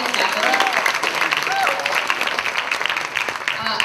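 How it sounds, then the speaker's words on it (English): Applause from parents in a school audience at an elementary storytelling program, a dense steady wash of clapping with some voices and cheers mixed in throughout. "give yourselves a round of applause"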